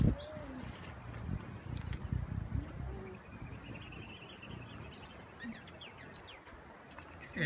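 Hummingbirds at a forest feeding spot at Mashpi Lodge give faint, scattered high chirps and squeaks over a dense, noisy background of buzzing wings and ambient hiss, quiet and continuous.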